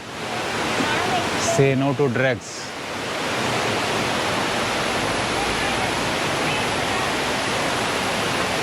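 Lakkam waterfall in Eravikulam National Park pours with a steady, loud, broadband roar of rushing water that fills the whole clip, while a person speaks briefly near the start.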